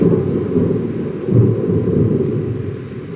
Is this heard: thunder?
yes